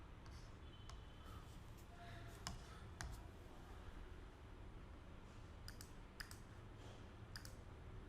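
A computer mouse clicking to save a template gives a few sharp, faint clicks spaced irregularly over a low background hum.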